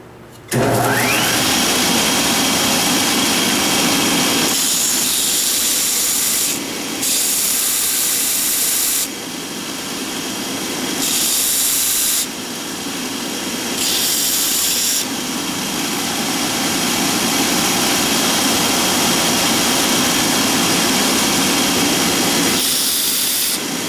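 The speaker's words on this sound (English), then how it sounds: "I also need to sand some chamfers where these hit," A loud, steady power sander whirs and hisses close by, sanding chamfers on wooden salad tongs, stopping and restarting several times in bursts.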